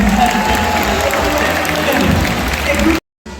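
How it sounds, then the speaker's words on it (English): A crowd applauds loudly and continuously after an animal show at Singapore Zoo, with a voice partly heard over the claps before a brief cut to silence near the end. "Another big round of applause"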